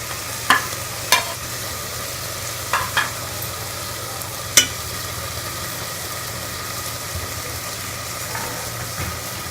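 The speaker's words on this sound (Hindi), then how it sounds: "मसाले डाल के अब मैं अच्छी तरह से भून लूँगी।" Spices with tomato paste and green chili paste fry in a pan for beef palak gosht, a steady low sizzle under a faint background hum, punctuated by a few sharp spoon taps and scrapes, close, no speech.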